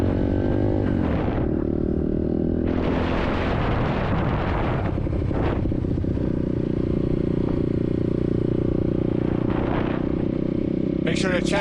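An SSR 150cc dirt bike engine runs loud and close during a warm-up cruise, revving up and down with bursts of throttle and constant wind buffeting on the microphone.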